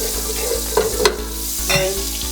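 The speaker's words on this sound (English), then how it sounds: "so I just added a spoon of butter to the pot. Allow the butter to melt." Butter melts in a pot on the stove, giving a steady low sizzle with a few soft stirring knocks and brief clinks over a constant background hum.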